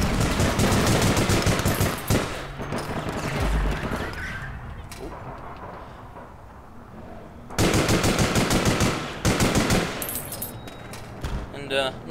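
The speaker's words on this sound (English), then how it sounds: "What I'm using right now is a Joker CR5. It's a different type of assault rifle." Joker CR5 assault rifle firing in the online shooter APB Reloaded, loud rapid automatic bursts in two long stretches with a quieter gap between, game ambience and a voice beneath.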